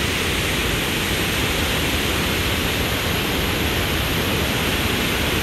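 Water from the Clarence Cannon Dam pours into the Salt River in a loud, steady broadband roar that holds unbroken, with no voices over it.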